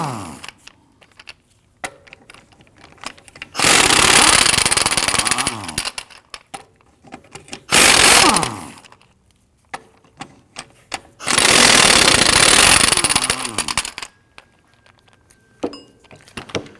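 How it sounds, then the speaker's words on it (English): An impact wrench with a 19mm socket loosens and removes lug nuts from the rear wheel of a 2013-2019 Ford Interceptor Utility, firing in three loud, rattling bursts of a few seconds each, separated by quiet gaps with small clinks. "Using a 19mm socket, we're going to loosen and remove the lug nuts."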